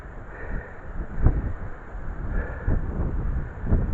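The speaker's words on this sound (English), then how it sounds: "today it's a little bit windy" Wind gusts across a clifftop on the rocky coast near Brixham, rumbling steadily against the microphone with louder buffeting swells every second or so and no voices.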